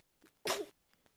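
A single short, sharp sneeze bursts out nearby in an otherwise quiet room, preceded by a faint intake of breath.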